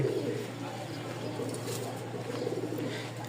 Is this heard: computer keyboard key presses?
no